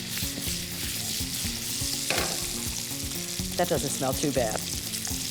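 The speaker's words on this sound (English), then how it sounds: "cook them right in the bacon fat for about 8 to 10 minutes until they're tender" Diced Yukon Gold potatoes fry in bacon fat with a steady, loud sizzle and crackle, punctuated by stirring scrapes, while a person speaks briefly over the cooking.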